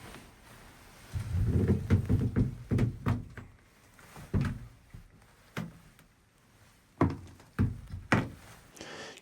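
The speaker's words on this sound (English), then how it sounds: "it makes a little bit of a noise when you sit on this chair" A chair on OSB flooring creaks and thunks as someone shifts their weight on it, a series of irregular knocks and creaks up close in a quiet room, with no talking.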